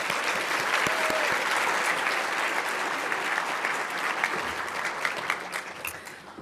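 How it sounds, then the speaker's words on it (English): Conference audience applauding a panel at a closing plenary session, a sustained wash of many hands clapping in a large hall, steady and fairly distant, fading slightly toward the end. "Please join me in giving one more round of applause to our panel."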